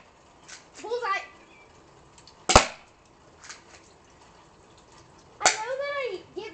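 Airsoft guns firing at a target, with two sharp, loud single shots several seconds apart and someone talking between them.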